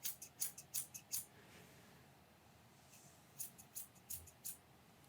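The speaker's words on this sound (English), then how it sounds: "Not a bad scissor sound." Small scissors snip rapidly in two bursts, crisp metallic clicks close up, with a quiet pause between the runs of cuts.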